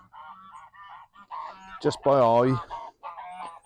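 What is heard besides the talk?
geese honking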